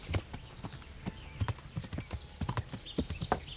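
Horse hooves clip-clop in Kingdom Come: Deliverance, a quiet, irregular series of hoof strikes at a walking pace throughout.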